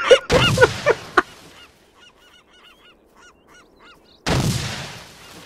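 Bird calls in the video game ArmA, with a brief cluster of honking, goose-like squawks repeating in a quick flurry between louder bursts of noise at the start and end.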